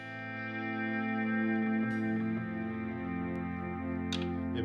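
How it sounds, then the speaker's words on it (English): Guitar through a modeler's swell delay effect: smooth, sustained chords that fade in without attack and ring together in a continuous wash, loud and alone with no talking. "I can turn on a little swell delay."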